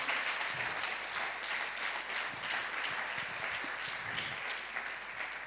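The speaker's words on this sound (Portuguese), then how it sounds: "Você pode aplaudir a Jesus por isso nesta noite?" Congregation at a church worship service applauding together, a steady dense wash of clapping that holds at an even level throughout, with no speech over it.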